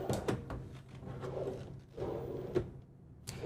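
Small drawers in the kitchen of a 2026 Newmar Grand Star Super C motorhome slide open and shut, giving soft rolling rumbles and a couple of sharp knocks close by.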